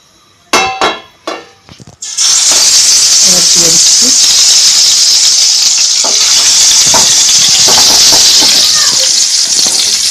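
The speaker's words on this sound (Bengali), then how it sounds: "ফ্রাই প্যানে তেল দিয়ে দিয়েছি তেলটা আমার গরম হয়ে গেছে" Spice-coated eggs on skewers hitting hot oil in a frying pan: a few sharp knocks and clatters, then a sudden loud burst of sizzling that settles into a strong, steady close-up hiss.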